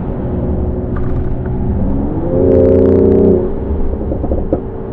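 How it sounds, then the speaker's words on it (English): Exhaust of a sports SUV switched into Sport Plus mode, a deep steady rumble that swells briefly into a louder rev midway before settling back. "You could probably hear the exhaust note."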